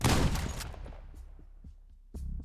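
A single loud gunshot, fired from a shotgun in the Pennsylvania woods, cracks up front, then rolls away into a long fading echo with a few faint knocks, before a rumbling noise swells near the end.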